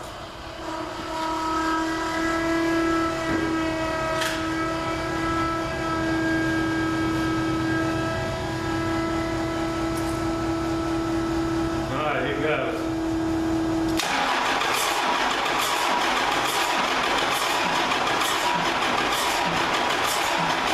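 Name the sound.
Cummins diesel engine cranking in a 1942 Chevy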